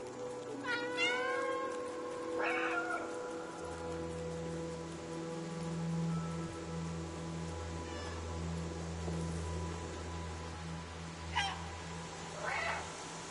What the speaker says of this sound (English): Oh, I can meow as well.